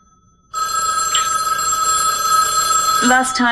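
A telephone bell rings loud and close in one long, unbroken trill lasting nearly three seconds, with a voice starting up just as the ringing ends.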